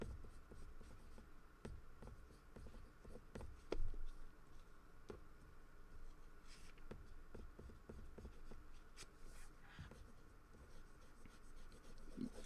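A pencil with a small, worn-down nib shades and colours in on paper, giving a quiet, close scratching with irregular strokes and a few sharper ticks, heard alone without speech.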